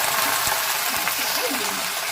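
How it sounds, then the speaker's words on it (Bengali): Chicken and mixed vegetables with salt and a bay leaf frying in hot oil, a steady close sizzle with occasional stirring clicks and no voices. "সমস্ত সবজি, চিকেন আর একটু নুনটা পরিমাণ মতো নুন দিয়ে আমি কষাতে থাকলাম।"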